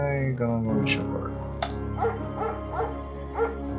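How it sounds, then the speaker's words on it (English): A German shepherd in the video game Firewatch barks and yips in a series of short, sharp calls, some whimpering, heard close under steady tonal game music. "intimidating the gentle-eyed German shepherd"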